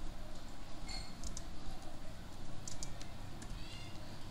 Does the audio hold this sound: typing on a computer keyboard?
yes